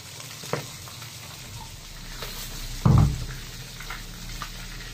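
A fish head fries in a pan with a continuous moderate crackle and sizzle, broken by a few light clicks and one brief louder thump of handling near the middle.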